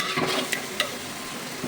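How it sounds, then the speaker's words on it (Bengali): Spice masala stirred and frying in a pot for a large-batch Bangladeshi meat dish: brief scraping stirs and soft sizzle, with a couple of sharp clinks from the spoon. "মশলাটা ভালো করে কষানি পরে দেন কালারটা কি সুন্দর আসছে"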